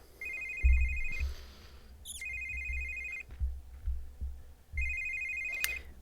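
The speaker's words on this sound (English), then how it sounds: "And then the phone starts ringing." A telephone rings inside a music track, three separate bursts of bright trilling electronic ringing over a low, throbbing bass pulse, with a short rising chime between the first two rings.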